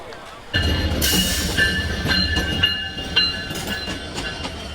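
Kishorganj Express train at Kuliarchar station, a loud rumble of railcars rolling past up close, with wheel clatter and metallic squeal tones layered over the steady roar.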